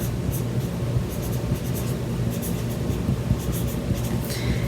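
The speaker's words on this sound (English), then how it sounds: "I'm going to write hayride on the back." A pen writes on the back of a transfer in quick scratchy strokes, with short bursts of scribbling close by over a steady background rumble.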